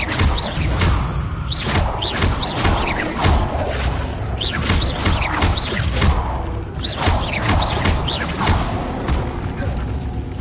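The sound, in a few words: Levioso spell effect in the video game Hogwarts Legacy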